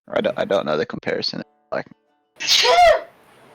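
A single sharp sneeze bursts out near the end, loud and close, right after a stretch of casual conversation at a tabletop D&D game session.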